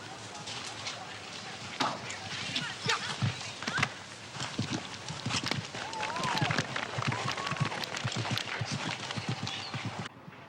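An eventing horse gallops toward a water jump, rapid hoofbeats drumming under a crowd and commentary, with voices talking and urging throughout.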